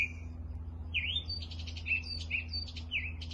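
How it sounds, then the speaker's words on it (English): Small birds sing outdoors in a run of short, bright chirps and whistled phrases that repeat about once a second over a low, steady background hum, fairly faint and distant, with no talk. "see these beautiful, beautiful birds giving us a little serenade here"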